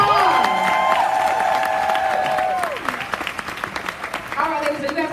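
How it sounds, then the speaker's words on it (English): Audience applause and cheering at a women's leadership panel event, a dense wash of clapping with whoops and voices over it that thins out toward the end while talk carries on beneath. "Let's give her a round of applause."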